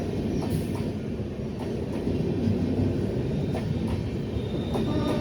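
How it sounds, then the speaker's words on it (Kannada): The Chennai Central–Ashokapuram superfast express rolls past at a crossing, a steady, close, loud rumble of wheels and carriages with faint rhythmic clatter throughout. "ಇದು ಚೆನ್ನೈ ಸೆಂಟ್ರಲಿಂದ ಅಶೋಕಪುರಂಗೆ ಹೋಗೋ ಸೂಪರ್ ಫಾಸ್ಟ್ ಎಕ್ಸ್ಪ್ರೆಸ್ ನೋಡಿ"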